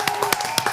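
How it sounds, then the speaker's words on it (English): A few scattered hand claps from a small group in a studio, sparse and uneven rather than a full ovation, close and fairly crisp against a quiet background. "Round of applause for ladies out here."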